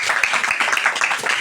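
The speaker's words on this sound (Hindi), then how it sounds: "तालियां हो जाए भैया के लिए।" Children in a classroom applaud a student, a steady burst of many small hands clapping together at close range for about a second and a half, with no talk over it.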